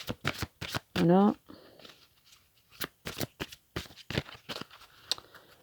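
Oracle cards are shuffled in quick, papery riffles and taps, close by, while a voice speaks briefly in French.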